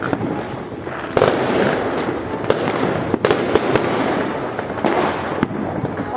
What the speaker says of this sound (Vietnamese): Pháo sáng mà, pháo sáng nó chỉ bắn lên trời rồi đứng im đó thôi.